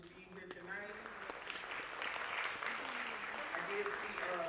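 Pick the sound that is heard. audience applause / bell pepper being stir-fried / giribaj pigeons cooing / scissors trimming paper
audience applause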